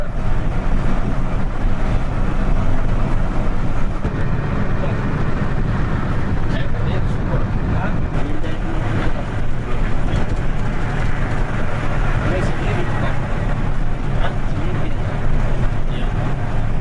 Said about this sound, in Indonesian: Sepanjang jalan tol, bus ini dipacu santai oleh Pak Tarso